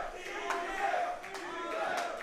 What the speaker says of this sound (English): With the crowd chanting for DJ.